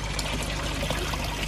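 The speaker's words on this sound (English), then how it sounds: "The water is going back down the outlet" Water from a Nexus pond filter outlet pouring back into a garden pond, a steady, close splashing trickle with no talk.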